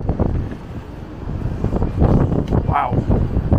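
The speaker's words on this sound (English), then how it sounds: "Wow, it is windy." Strong wind outdoors at a hotel in Blackpool buffets the microphone with gusty low rumbling that rises and falls, heavier in the second half, with no talking.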